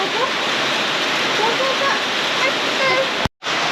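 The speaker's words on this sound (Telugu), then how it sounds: "వర్షం అయితే పడుతుంది ఇక్కడ నుంచి వాటర్ పడుతుంది" Rain falling and water pouring down at a roadside shop, a dense continuous wash of hiss and splashing, loud and close, broken briefly by a sudden cut near the end.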